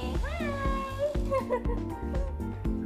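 A house cat meows several times in a drawn-out, rising and falling way, close and fairly loud, over a busy indoor background with other voices.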